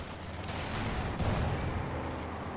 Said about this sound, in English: More nades being spammed.